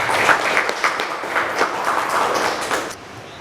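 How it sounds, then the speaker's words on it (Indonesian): A school audience claps for the first presenter at a clinical and community pharmacy event, a short burst of moderately loud applause that tapers off near the end. "Langsung saja kita beri aplaus kepada pemateri yang pertama, Ibu Desi."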